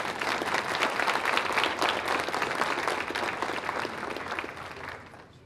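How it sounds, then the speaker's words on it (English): A crowd at the Coeur d'Alene 2024 State of the City Address applauds the Coeur d'Alene Firefighters Honor Guard, giving dense, steady clapping that holds for several seconds and then tapers off near the end. "please join me in a warm round of applause for the Coeur d'Alene Firefighters Honor"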